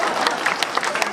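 A crowd applauds at a Balinese comedy performance, with a brief burst of dense, lively clapping and scattered sharp claps standing out.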